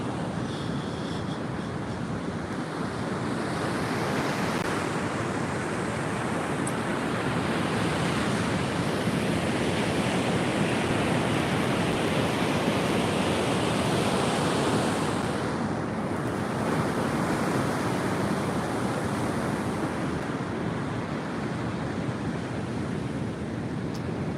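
On the beach at Sawarna, waves crash in a constant, close, heavy roar that swells and eases slightly over time, with wind rumbling against the mic and no speech.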